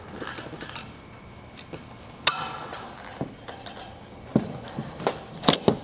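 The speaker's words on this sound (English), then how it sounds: "I'm gonna just go a little tighter with the vice grips." Vice grips clamp and bend the corner of a sheet metal drip cap, giving sparse sharp metallic clicks and ratcheting snaps with quiet hiss between them, close by and with no talking.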